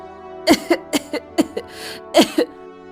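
A woman coughs in several short, harsh bursts, grouped in pairs, loud and close, with a low hum in the background.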